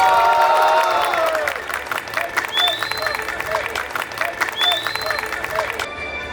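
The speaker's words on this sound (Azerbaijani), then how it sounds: "gurultulu alqışlarla səhnəyə dəvət edirik" An audience at a school graduation ceremony applauds as a class teacher is called to the stage. The clapping and crowd noise are steady and moderately loud, with music and voices mixed in.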